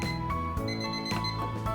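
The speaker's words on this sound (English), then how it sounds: "My timer is off." A kitchen timer rings in repeated bright electronic beeping bursts with a steady rhythm, several chimes over a short span, close and clear.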